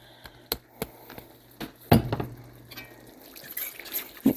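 Hoisin sauce being stirred into Mongolian beef in a pan: light clinks and taps of a utensil against cookware, with soft wet scraping and sloshing, close and quiet.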